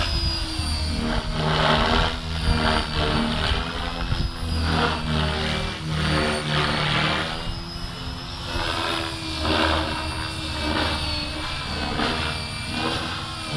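Gaui X5 RC helicopter rotor whirring steadily with a droning engine-like hum, the pitch sagging and wavering as head speed drops, loud and continuous with no talking.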